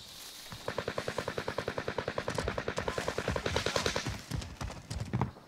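Automatic gunfire in a battle-royale style shooter game, a long rapid burst of evenly spaced shots that runs for several seconds, followed by a few scattered louder shots, heard fairly close.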